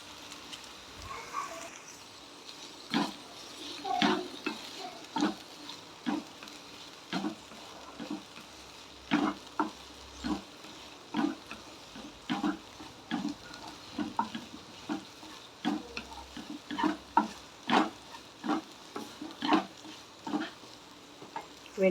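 Sliced okra (vendakkai) and egg are stir-fried for a Tamil poriyal, a quiet sizzle under repeated sharp scrapes and taps of a spatula against the pan in an irregular rhythm.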